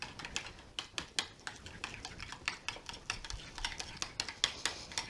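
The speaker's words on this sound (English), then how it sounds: "And then we're just going to give this a quick stir." A spoon quickly stirring cranberry sauce with mayonnaise in a bowl, a series of close, light clicking and scraping strokes in a quick uneven rhythm, with no talking.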